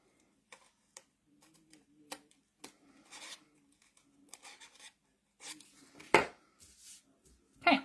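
Scissors snip tear tape off the edge of a handmade Christmas card, a few short, quiet cuts and rustles spread out, ending with a couple of louder, sharper snips near the close.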